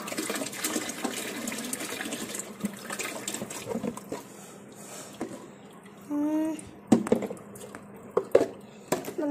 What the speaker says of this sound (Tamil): நம்ம தண்ணி ஊற்றிடுவோம்.